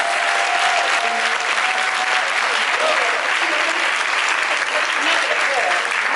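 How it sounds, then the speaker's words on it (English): Convention audience applauding, a dense, steady wash of many hands clapping at a constant loud level throughout, with faint voices mixed underneath. "Give her a round of applause."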